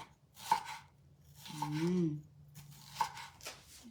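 A few crisp knife cuts on a board, thinly slicing vegetables for atsara, spaced a second or two apart, with a brief low hum in between.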